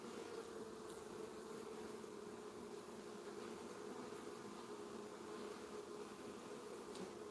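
Honeybees swarm over an open hive with honey stored in the middle frames, giving a continuous, faint, dense buzz that stays level from start to finish, with no talk.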